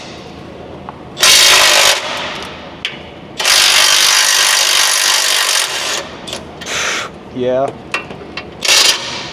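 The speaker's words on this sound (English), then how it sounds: "give me the impact ratchet and the 18 deep. All right, hopefully this has got enough juice to rip these out" Impact ratchet with an 18 mm deep socket pulling bolts from the front valance of a 2023-2026 Ford Super Duty, two long loud rattling bursts followed by shorter spurts, with a brief spoken word near the end.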